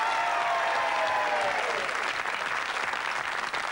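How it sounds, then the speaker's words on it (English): Loud, steady audience applause fills a TV game show studio as a new contestant is welcomed, sustained evenly from start to finish without a break. "Give her a round of applause."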